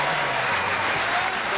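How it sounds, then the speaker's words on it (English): Audience applause for Peter "Spider" Everitt, former St Kilda footballer now on the Footy Show, at a St Kilda Team of the Century event; dense, steady clapping from a large crowd with faint voices mixed in. "Please give him a round of applause, everybody."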